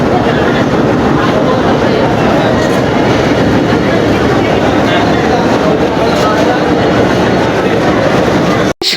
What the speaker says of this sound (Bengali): লোকাল ট্রেন দাঁড়ায় আছে